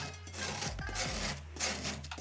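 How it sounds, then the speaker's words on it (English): A bread knife scrapes across a craft foam surface in a few close, rasping strokes, each a soft grating rub with short pauses between, with no talk. "I'm just going to scrape over it like this"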